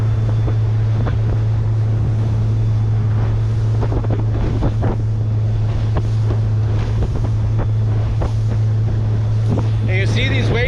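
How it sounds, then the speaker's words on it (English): A motorboat runs fast through choppy water inside a break wall near the Calumet River, its engine droning loudly and steadily while the hull slaps repeatedly on the waves, with heavy wind buffeting throughout. "I really don't like going too fast in the boat, especially when it starts wave hopping."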